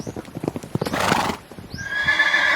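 A horse whinnies loudly near the middle, then comes a second rising whinny with a long, ringing tail, while hooves clip-clop rhythmically throughout, close and clear, with no talking.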